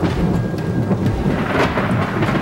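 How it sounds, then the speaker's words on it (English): A thunderstorm with heavy rain pouring steadily and deep thunder rumbling close and loud throughout, the dense wash of rain never letting up and no voices present. "You want to stay inside until the storm's passed."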